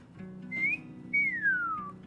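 A person whistles two notes: a short rising tone, then a longer one sliding downward, clear and close over a faint low hum.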